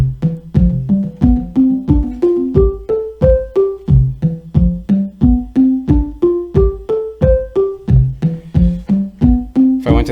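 A continuous Rene II sequence driving a Buchla and Tiptop Audio 258t dual oscillator: quick plucky notes stepping up and down in a repeating melodic pattern, steady and loud throughout.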